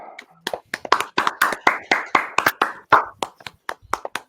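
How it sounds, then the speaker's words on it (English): A few people clap by hand in an irregular, close-up burst, with sharp individual claps at varying loudness, some quick overlapping pairs, and no talking. "I was clapping for myself."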